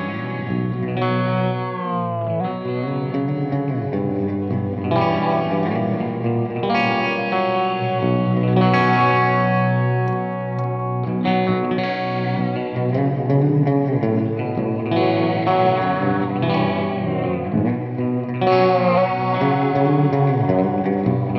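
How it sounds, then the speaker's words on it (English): Electric guitar pushed through an EarthQuaker Devices distortion pedal plays dense, saturated riffs with heavy chords and sustained notes, loud and unbroken for the whole stretch, carrying some chorus-like shimmer and reverb. "whenever I'm actually recording with distortion, I'm always using that. It sounds amazing, it cuts through really hard"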